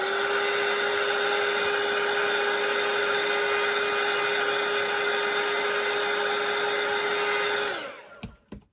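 A hair dryer blowing over watercolour paint, a loud steady whine and rushing air that runs unbroken for several seconds, then cuts off abruptly, leaving a few faint knocks.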